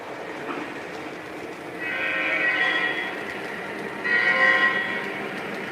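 A Conrail train running on a model railroad layout, with a steady mechanical rolling hum and two swelling horn blasts, close and moderately loud, with no talking.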